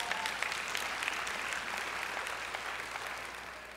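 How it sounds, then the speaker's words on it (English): A church congregation claps steadily and fairly loudly in a dense, sustained burst that tapers slightly toward the end, with no talk over it. "If you want to clap about that, you can clap about that"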